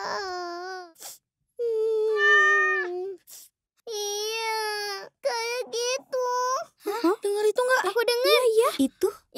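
A cat meows repeatedly at close range, drawn-out and plaintive calls with short pauses between them, rising in pitch at times.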